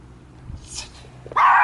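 A dog barks and whimpers at an outdoor strongman show, with faint yips midway, then one loud, close bark near the end.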